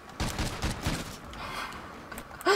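Rapid gunfire in a Call of Duty Ghosts multiplayer match, with bursts of automatic shots at mid distance running through the first second or so. Quieter rattling and a sharper sound close the clip.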